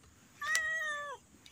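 A single cat meow, clear and fairly close, rising then falling over about a second in a quiet setting with no talk.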